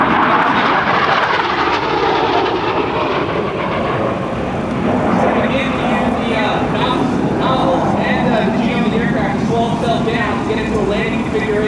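AV-8B Harrier II jet flying low and fast over an open-house air show, a loud, continuous roaring engine rumble that fills the whole stretch, with talk mixed underneath.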